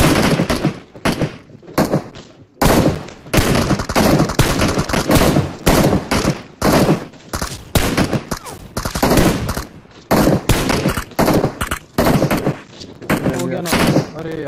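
Rapid automatic gunfire sprays in bursts during PUBG Mobile gameplay, loud and dense with brief gaps between volleys, with speech mixed in.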